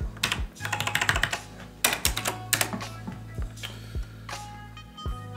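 Terminal commands are typed on a computer keyboard in quick clattering bursts of keystrokes, with several sharp separate key hits and pauses, close and clear with no talking.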